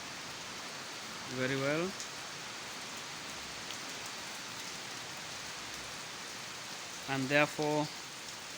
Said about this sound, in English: So you can see the area is raining